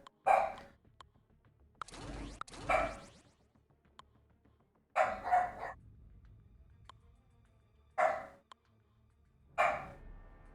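A pet dog barks in several separate bursts of one or two loud, close barks, with quiet gaps between them, in a room during a live game stream.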